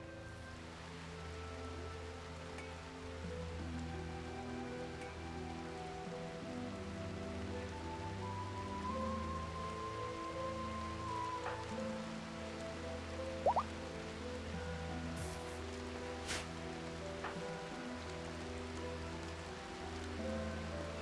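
Steady rain falls in the RimWorld game with a Medieval Overhaul mod, a continuous soft patter over low droning music, with a few faint brief clicks and chimes near the end.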